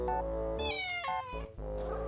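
A pet cat gives a short drawn-out meow that rises and falls in pitch, close by and fairly quiet, with no other sounds around it.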